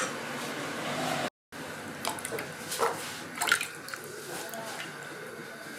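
Mangoes lifted out of a bowl of soaking water that has turned colored from their sap, with close, irregular dripping and small splashes over a steady wet background, plus a brief dropout early on.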